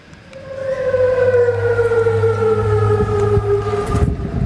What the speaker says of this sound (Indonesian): Sirene meraung di kota Amman saat angkatan bersenjata Yordania mencegat serangan rudal Iran.